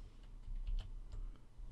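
A few quiet computer keyboard key presses in SketchUp, with light clicks scattered over a second and a half against a low background hum.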